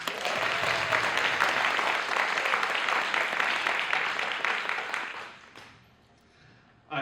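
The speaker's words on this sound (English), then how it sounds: "One more round of applause, please." Audience applause fills the room at a community panel on mutual aid and California fire country, a dense, steady clatter of many hands for about five seconds before tapering off into quiet.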